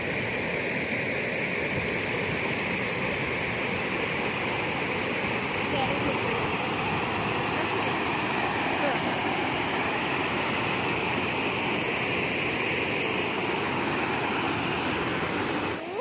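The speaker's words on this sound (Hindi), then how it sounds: "केते सुंदर पानी बोही आसुची एपटे जाउची" River water flows steadily at a riverside temple, a loud, continuous broadband rush close to the microphone with some wind noise, unbroken throughout.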